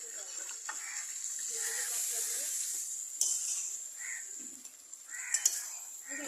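Curry sautéing in oil in a pan, a soft steady sizzle with occasional stirring scrapes, faint and close, while people talk quietly nearby.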